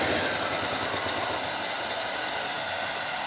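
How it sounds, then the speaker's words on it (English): A sewing machine stitches fabric for Witcher-style armor with no thread loaded, a steady close whirring motor hum that holds evenly throughout without pauses. "You know, I just sewed this without it being threaded."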